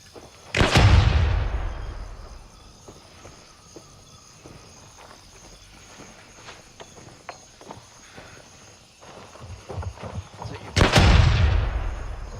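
Video game firefight with a loud grenade-like blast opening and another near the end, separated by scattered distant gunshots and light footstep-like clatter in between; no talk.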